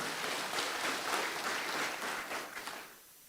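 Applause from a university graduation ceremony crowd greeting the graduates, a broad wash of many hands clapping, fairly faint and distant, fading out near the end.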